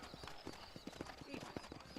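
A horse ridden in the Western video game Red Dead Redemption beats out a steady, fairly quick clip-clop of hooves, soft and evenly spaced across two seconds.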